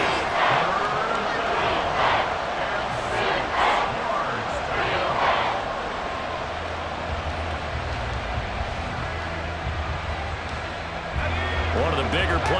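Stadium crowd noise builds in Madden NFL 24 during a franchise game, a broad cheering roar with rhythmic swells and claps, loud and sustained beneath steady play-by-play commentary.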